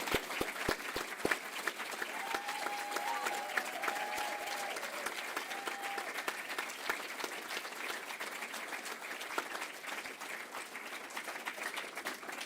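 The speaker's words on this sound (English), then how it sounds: "So please, could you all give a round of applause" Audience applause at a college awards ceremony, sustained even clapping from a sizeable crowd that holds steady for the whole stretch, moderately distant.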